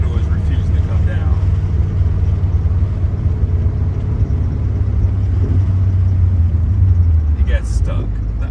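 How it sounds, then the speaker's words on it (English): A supercharged Ford Coyote V8 swapped into a car runs with its idle stuck high, a steady loud low rumble heard from inside the cabin while rolling slowly, with brief talk near the end. "Idle is refusing to come down."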